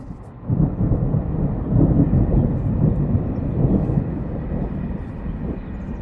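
Deep rolling thunder from a strong thunderstorm over the Grenoble Alps, a sustained low rumble swelling and fading across several seconds, fairly loud and steady with no speech.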